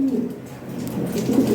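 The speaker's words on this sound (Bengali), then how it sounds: "original European toy Lahori 2020 ring ব্লাডের কবুতর" European Toy Lahori pigeons coo close by in soft, low, throaty murmurs that repeat in short overlapping phrases.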